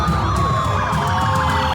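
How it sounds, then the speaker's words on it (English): Several police car sirens wail together, overlapping rising and falling tones that sound loud and close and never break. "He carefully watches as police cars flood 2 of the streets he had in mind"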